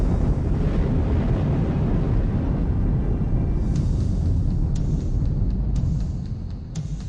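Volcanic eruption as mountains blow apart, heard as a loud, continuous roaring rumble that is heavy and wind-like with a broad, dense body, easing slightly near the end while faint sharp crackles break through.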